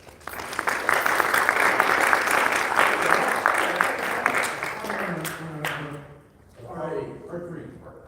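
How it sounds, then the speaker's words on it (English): An audience claps in sustained applause for several seconds, close and full. It fades out and a person starts talking. "So everybody, please give Scott a big round of applause."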